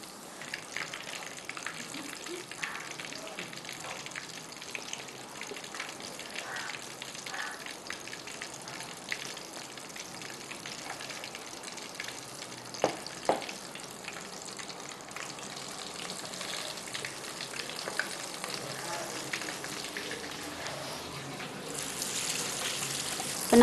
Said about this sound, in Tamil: லைட் ப்ரௌனில் லோ ஃப்ளேம்லேயே வச்சு வறுத்துருங்க.